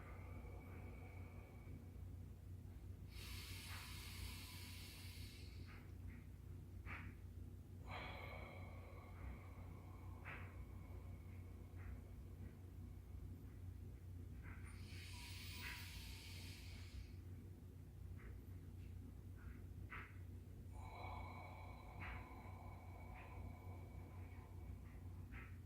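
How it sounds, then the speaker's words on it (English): Deep breathing during a combat yoga exercise, a few long airy inhales and exhales spaced several seconds apart, quiet and close over a low steady hum, no talk. "Start off with natural breathing. Then start going deeper."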